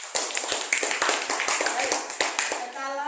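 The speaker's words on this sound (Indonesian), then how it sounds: "Tepuk tangan buat kelompok 4." Classroom students clapping for a presenting group, a brisk run of distinct hand claps at close range that thins out near the end as a voice begins speaking.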